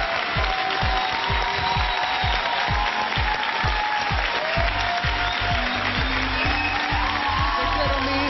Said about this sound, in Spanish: quiero invitarlos a que me acompañen a recibir con un fuerte aplauso a la responsable de estos 21 años de éxitos.